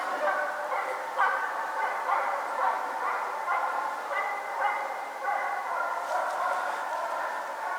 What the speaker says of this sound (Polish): Też tu psy głoszą